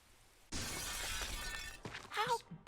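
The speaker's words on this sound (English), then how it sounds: "Alright, time to smash a window." A window-glass smash sound effect in the Arkham Horror board game app. One sudden crash is followed by a long scattering of shards, and a voice starts speaking right after it.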